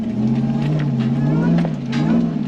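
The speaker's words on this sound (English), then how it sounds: "Get a little bit of that supercharger whine." A Jeep Wrangler with an 840 HP Demon engine climbs a hill, a steady supercharged engine drone with a thin whine on top, loud and close throughout.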